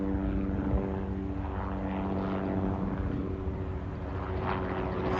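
A sunset tour helicopter passes overhead out of an airport near Blue Hill or Norwood, over Hull in New England, giving a steady, continuous rotor and engine drone that stays fairly even throughout, with no voices.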